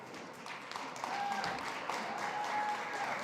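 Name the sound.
audience applause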